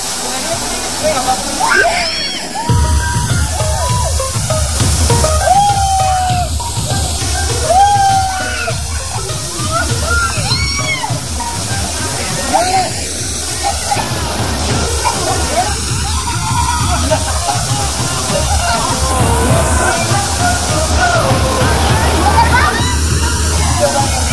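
A waterfall in Sumbawa keeps up a steady rush and slosh of water while children play and splash in it, and voices talk and call over the constant pour.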